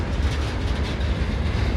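A westbound freight train carrying refrigerator cars rolls past close by, a continuous loud rumble with a low rhythmic rail clatter and no voices.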